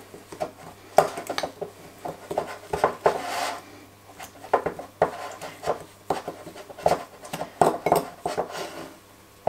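A fork scrapes and taps against a bowl while mixing sugar and melted butter into a crumble topping for a red fruit cake, irregular clinks and scratchy strokes with brief pauses, close and without talking.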